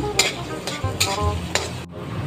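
Chopped garlic hits hot oil in a pan for a patola dish, a loud close sizzle broken by four regular scraping strokes of a spatula, then a brief drop before the hiss resumes.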